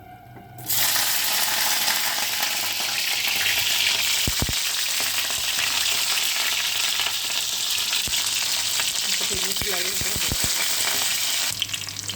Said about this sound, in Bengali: এরপর ফুলকপিগুলো একটুখানি ভেজে নেবো।